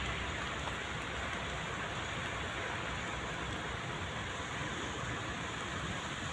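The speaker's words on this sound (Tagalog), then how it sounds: "Yan po, umuulan." Steady rain falls continuously, a soft, even hiss of drops on surfaces with no breaks and no voices.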